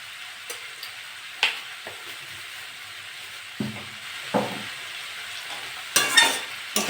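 Boiled papaya pieces with a little sugar are stir-fried in a pan. A soft background sizzle is broken by a handful of separate scraping and knocking stirs of a spatula, with a short burst of quicker strokes near the end. No speech.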